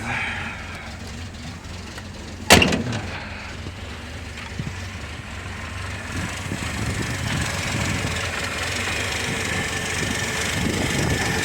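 A car engine starts with a sharp burst at the push of a button on a chilly day, then settles into a steady, fairly loud idle rumble that holds to the end.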